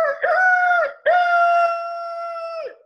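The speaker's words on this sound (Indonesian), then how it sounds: "suara ayam yang berkokok dengan keras." A rooster crows loudly and close by in one long, drawn-out call, with a short break partway through before a sustained tail that fades out.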